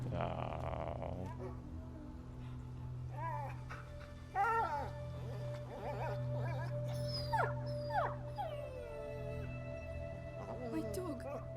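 Dog whimpering and howling in the video game A Plague Tale: Innocence, a string of rising, wavering cries and whines over a steady low game ambience, with a voice speaking around them.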